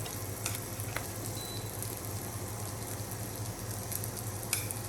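Chicken frying in a hot cast iron pan, a steady close sizzle with a constant low hum underneath and a few faint ticks and clinks scattered through.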